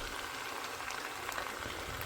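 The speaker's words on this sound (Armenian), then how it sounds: "արագ հիմա տապակում եմ" Meat and new potatoes sizzling in a pan, a steady, dense crackle of frying fat that holds at an even, moderate level throughout with faint pops scattered over it.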